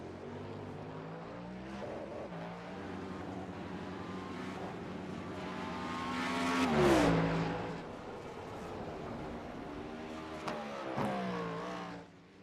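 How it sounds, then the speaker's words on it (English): An IMSA Cadillac GTP prototype race car in iRacing revs and accelerates through gears, its engine note rising to a loud, close peak midway, then easing off with further shifts, heard alone without talk. "This Cadillac GTP machine for IMSA is beautiful sounding."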